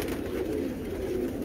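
Amritsari pigeons, a show breed, cooing steadily at a pigeon exhibition, a soft continuous low murmur close by with no one talking.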